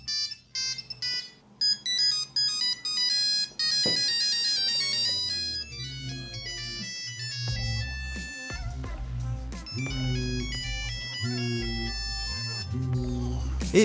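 A Nokia 3310 mobile phone plays a loud, bright polyphonic melody ringtone with quick tumbling notes, sounding close and continuous for over ten seconds against a low background.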